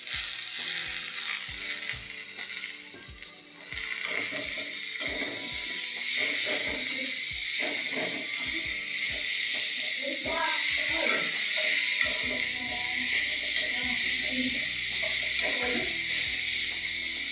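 Cooked, squeezed banana flower vegetable drops into a hot pan and sets off a steady, loud sizzle and hiss that carries on to the end, broken by clinks and taps of a spatula stirring.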